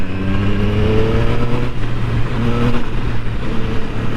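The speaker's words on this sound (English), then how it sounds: "I'm actually scared to rev this bike properly." A 2020 Triumph Street Triple motorcycle engine running and revving, a loud close mid-pitched drone with rising and falling throttle swells and steady harmonic hum, no talk.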